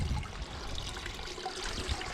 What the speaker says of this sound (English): Hardly any water coming out.